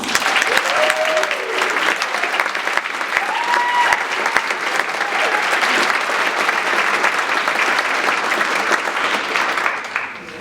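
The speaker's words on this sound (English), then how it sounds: "let's give all of them a round of applause" A large audience claps steadily for about ten seconds, a dense, sustained round of applause that fades slightly at the end.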